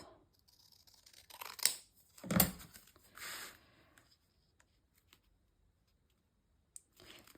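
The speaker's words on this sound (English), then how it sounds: "So I would need to cut just that end bit off." Scissors snip the end off a piece of paper for a junk journal, a few crisp cuts and rustles close by in a quiet room, followed by faint taps.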